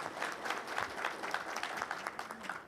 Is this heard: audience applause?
yes